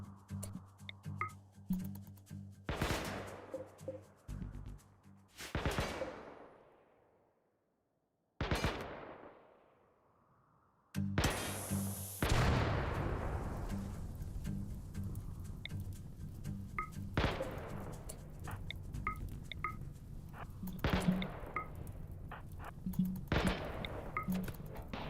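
Striker turrets firing in Rimworld: bursts of sharp mechanical shots, broken by short silent gaps, then a long sustained volley of rapid cracks layered over a low steady hum.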